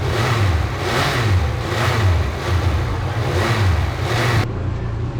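A Triumph Speed Triple 1200 RS motorcycle engine revs loud and close, its roar swelling and easing in repeated waves with no talk over it.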